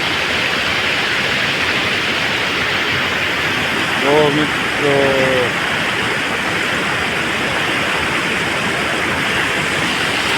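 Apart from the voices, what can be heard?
Keri river water flowing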